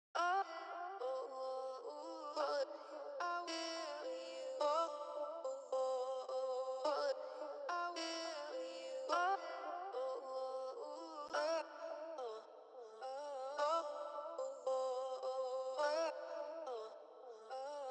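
A tonal, ethnic-flavoured synth sample called I Got You, from the Hook bank of the Arcade plugin, plays a melodic pattern of sustained, bending notes in repeating phrases, heard clearly on its own with no talking.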